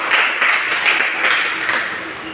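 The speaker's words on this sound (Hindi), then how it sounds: "मैं चाहूँगा कि उनके लिए जोरदार ताली हो जाए पहले" Enthusiastic applause from a seated audience at a company marketing meeting in a hotel hall, greeting speaker Om Prakash; steady dense clapping with no talk over it for the full couple of seconds.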